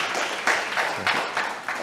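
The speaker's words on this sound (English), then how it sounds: "A round of applause for the author, Professor Jayakumar." Audience at a book launch discussion gives the author a brief round of applause, a thin, fairly close patter of clapping with a few louder pulses, fading quickly.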